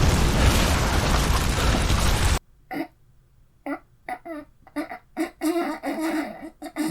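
A car blowing up in the shooter game Soldier of Fortune Payback: a loud, sustained explosive roar that cuts off abruptly, followed by scattered short bursts and pops at moderate volume.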